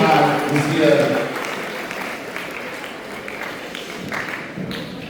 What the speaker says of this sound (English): A big round of applause for the Team Beta.